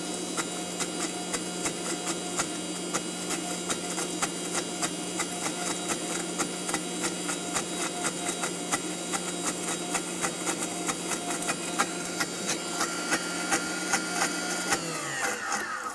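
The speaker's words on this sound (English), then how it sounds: "you can hear it thickening, and the blender blades are kind of skipping now" Countertop blender whipping homemade mayonnaise, its steady motor whir carrying a repetitive ticking as the blades skip through the thickening emulsion, close and continuous, changing pitch near the end.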